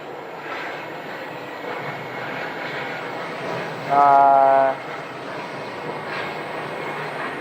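A SkyWest airliner arrives at Phoenix airport with a steady jet engine roar, briefly swelling louder with a tonal whine midway, over continuous open-air background.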